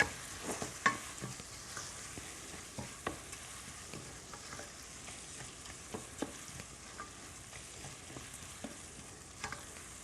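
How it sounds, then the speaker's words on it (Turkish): Bulgur and onion frying in a pan while being stirred, a soft continuous sizzle broken by quiet scraping strokes of the spoon, close and faint, with no talking. "Şimdi güzelce bulguru da şöyle bir soğanımla çevirip koteliyorum."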